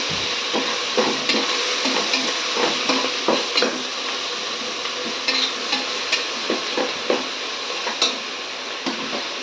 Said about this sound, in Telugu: అల్లం వెల్లుల్లి పేస్ట్ వేసుకొని కలుపుకొని